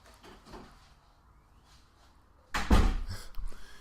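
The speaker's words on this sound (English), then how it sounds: "close the door, Simon." A door is pushed shut indoors, giving one solid, close thud with a short rattle after a quiet lead-in with faint room sounds.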